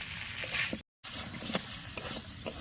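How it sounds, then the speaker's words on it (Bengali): Potatoes and spices being stir-fried in a pan for a village-style meat and khichuri meal, with a steady sizzle, scraping stirs and a few sharp clicks, briefly cut to silence midway. "মশলার সাথে আলুটা বেশ ভালো করে কষানো হয়ে গেছে"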